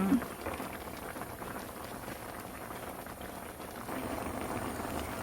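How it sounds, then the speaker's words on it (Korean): Radish stew broth bubbling in a pot on the stove, a steady close simmering burble and hiss that carries on throughout with no talking. "보글보글 끓고 있습니다."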